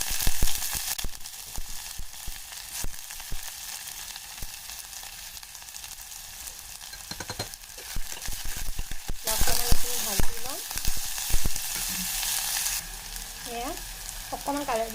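Chopped onions and cumin seeds frying in a pan for dal, a steady bright sizzle with sporadic clicks and scrapes, louder bursts toward the end as the food is stirred.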